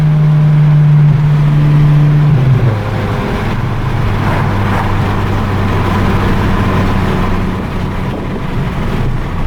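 A Stage 3+ big-turbo VW MK7 GTI making about 450 hp accelerates hard with a loud, continuous engine roar. A steady tone at the start gives way to a dense, sustained pull with no talking.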